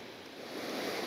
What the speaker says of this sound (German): Ja, und hier haben wir so einen kleinen Wasserfall.